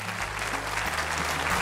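Steady applause from a group of children clapping for a girl named Maryam on a kids' television programme, a dense, even patter of hands that runs the whole short moment.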